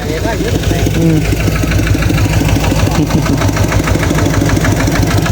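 A tractor engine runs steadily and loudly close by, a rough mid-pitched drone with knocking pulses that holds throughout, with people talking faintly beneath it.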